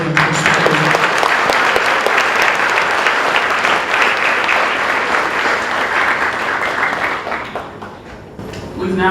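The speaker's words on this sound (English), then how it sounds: "Round of applause again for this." An audience at a 2016 presentation day ceremony gives a sustained round of applause, loud and dense, easing off and thinning near the end.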